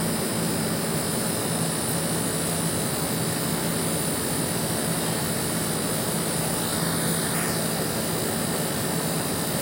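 A Condura DC compressor, just replaced, runs continuously as a steady, even hum with a constant tonal drone throughout, no talk over it.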